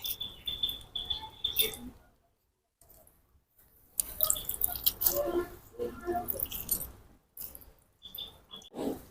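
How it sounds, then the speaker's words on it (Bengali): Water is squeezed by hand from grated mango peel through a cotton cloth for mango pickle, giving wet squishing and dripping in bursts with pauses, close by, with no talk. "এই যে এইভাবে চেপে চেপে যতটা সম্ভব কিন্তু জলটা বের করে নিতে হবে।"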